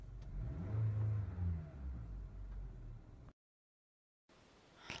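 A 2017 Toyota Camry engine turns over and runs with a low rumbling idle, cuts to silence for about a second, then resumes faintly with a whirring rise at the end.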